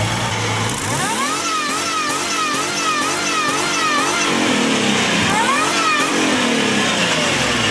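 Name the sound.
old truck engine running with squealing blower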